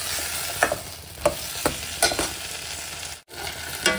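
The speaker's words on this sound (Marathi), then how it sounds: "कोथिंबीर घालून छान थोडंसं तेलामध्ये जरा सॉफ्ट होतपर्यंत आपल्याला फ्राय हे करायचं" Masala paste with coriander frying in oil, a continuous close sizzle broken by several loud scraping stirs of a spoon in the pan and a brief dropout near the end, no talking.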